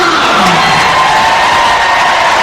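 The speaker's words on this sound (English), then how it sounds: "That cheer is for Olympic legend Sir Mo Farah, who will be coming onto the field" Packed stadium crowd at a charity soccer match roaring as Sir Mo Farah comes onto the field, a loud, continuous wall of cheering and whoops that fills the whole moment.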